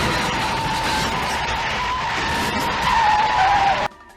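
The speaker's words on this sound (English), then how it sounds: "As they apply the maximum brakes, Virgil loses control of his elevator cart, causing the front tip of the Fire Flash to collapse and drag along the runway" An aircraft's collapsed nose grinds along a runway under maximum braking, a sustained harsh scraping squeal with a rising tonal screech that cuts off abruptly near the end.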